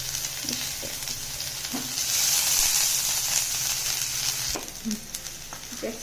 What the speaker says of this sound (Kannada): ಭವ್ಯ ತವಾ ಬಿಸಿ ಆಗಿದೆ ಆಯಿಲು ಹೀಟಾಗಿದೆ ಆಗಿದೆ ಇವಾಗ ಒಂದೊಂದೇ ಟೊಮೆಟೊ ಸ್ಲೈಸ್ಗಳನ್ನ ಇದರಲ್ಲಿ ಬಿಡ್ತಾ ಹೋಗೋದು